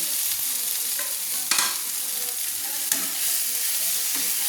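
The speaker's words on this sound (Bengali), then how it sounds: "সেই ভাজা সোয়াবিনটাকে তুলে দিচ্ছি কড়াইতে" Fried soybean chunks tipped into spices in a wok, a steady close sizzle punctuated by a few sharp spatula scrapes and stirring knocks.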